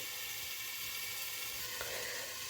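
Chopped tomatoes cook in a pan for mash dal with a soft, steady sizzle. A single brief clatter of a utensil is heard partway through.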